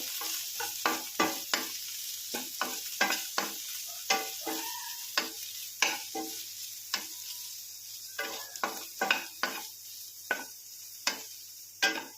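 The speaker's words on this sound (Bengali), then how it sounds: "ভালো করে ভেজে নেব" Green peas and baby corn fry in a pan, a soft sizzle punctuated by many rhythmic scraping stirs of a spatula, close and fairly clear, without talking.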